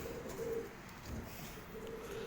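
A barred pigeon of a high-flyer and low-flyer cross coos softly in a few low, rolling phrases, with light background noise around it.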